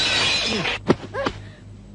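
Objects are smashed and glass shatters in a burst of crashes, with a few clinks and thuds following in a short, loud sequence.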